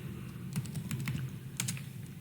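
Keys clatter on a computer keyboard as an IP address is entered during router configuration, with irregular bursts of close, crisp keystrokes over a steady low background hum and no talking.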